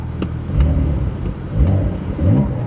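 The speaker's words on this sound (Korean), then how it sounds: "스포츠 모드에서는 그래도 좀 스포츠카다운 배기 사운드를 보여주고요" Exhaust note of a Porsche 992-generation 911 switched into sport mode with the valves opened, rising in three low, throaty revving swells that stay close and steady, with no talking.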